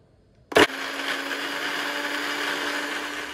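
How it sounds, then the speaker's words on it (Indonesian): A kitchen blender whirs through ingredients mixed with a little water for coto makassar. A sharp click-on burst gives way to a steady, loud motor whine that holds evenly to the end, with no one talking. "Oke, sekarang mau di blender dulu."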